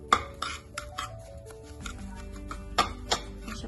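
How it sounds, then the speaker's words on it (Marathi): A spoon scrapes and clinks against a pan as semolina is stirred and roasted in a spoonful of ghee, with sharp metallic taps scattered over a low, quiet background and no voices. "आपण आता याच्यामध्ये टाकणार आहोत 1 चमचा तूप आणि तुपामध्ये रवा छान भाजून घ्यायचा"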